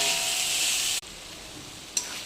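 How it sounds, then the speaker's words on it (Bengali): Small potatoes sauté in a pan with ginger paste, cumin paste, garam masala and melon seed paste, giving a bright, steady sizzle that cuts out abruptly, then a quieter hiss with a brief stirring scrape. "কষানো হচ্ছে ছোটো আলুর তরকারি, মোটামুটি কষানো হয়ে গেছে।"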